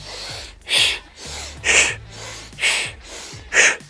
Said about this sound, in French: la technique miracle quand on est complètement carbonisé en wall ball shot, c'est la double respiration